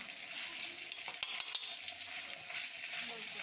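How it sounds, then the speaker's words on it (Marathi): Crushed green chili paste frying in hot oil with cumin seeds and curry leaves for a Marathi kateri bhendi amti, a steady close sizzle with a few stirring clicks and scrapes. "हिरव्या मिरचीचा ठेचा तेलामध्ये चांगला परतून घ्यायचा आहे"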